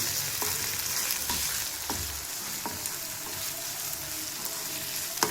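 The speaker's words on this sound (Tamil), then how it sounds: "இஞ்சி பூண்டு விழுது சேர்த்துக்கிடணும். இதோட பச்சை வாசனை போகிற வரைக்கும் நல்லா கிளறி எடுத்துக்கணும்." Ginger garlic paste fries in a pan with a steady close sizzle, punctuated by regular scraping knocks as it is stirred.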